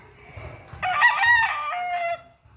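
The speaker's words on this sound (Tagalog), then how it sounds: "Ganda-ganda ng manok na yan." An imported fighting rooster of a cockpit breed gives one loud, close crow lasting over a second, with faint low background noise before and after.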